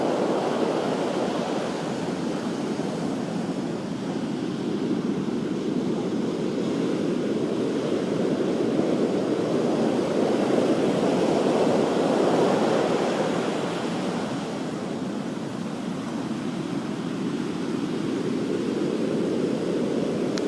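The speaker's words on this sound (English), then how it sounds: "Really big waves now." Huge hurricane waves and storm surge from a major hurricane nearing Jamaica and Haiti form a continuous, heavy roar that slowly swells and eases, broad and steady with no talk over it.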